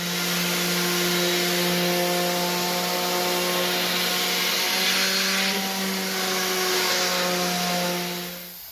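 Power sander working on a wooden frame-and-panel cabinet door, a steady close whirring drone with a constant hum, running continuously and alone before easing off at the end.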